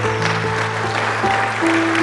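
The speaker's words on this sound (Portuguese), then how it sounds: "Dá uma linda salva de palmas para Jesus." A church congregation claps together in sustained, steady applause, with musical tones, likely from a keyboard or organ, held beneath the clapping throughout.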